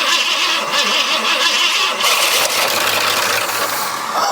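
An abandoned Ford F100 engine, freshly fed with fuel in the carb, cranks and struggles to catch, a steady loud rough churning without any talk.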